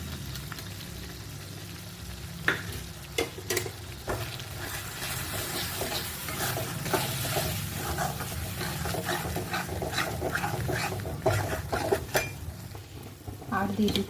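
A spoon stirs fried moong dal powder and sour curd in hot oil in a pan, with close continuous sizzling, repeated scraping and clinks of metal on the pan, and a voice speaking at times.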